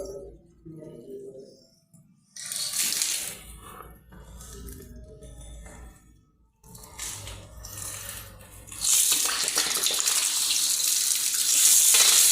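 Water running from a tap in shower and kitchen plumbing, starting in intermittent bursts and then flowing as a steady, loud rushing stream, with a voice heard early on.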